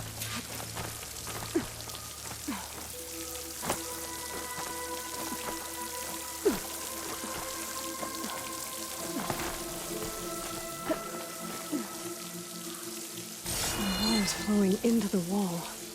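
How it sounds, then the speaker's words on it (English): In-game water from the Horizon Forbidden West video game near a waterfall and hollow wall, a soft continuous patter and trickle like drops on a surface, faint throughout with tonal game music and a voice talking over it. "Where's this water coming from?"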